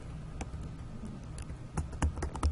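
Computer keyboard keys being typed in short irregular bursts of clicks, fairly close, over a low background hum in a lecture setting, with a few louder taps toward the end.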